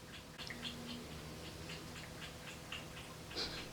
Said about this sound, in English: my kitty's drinking water.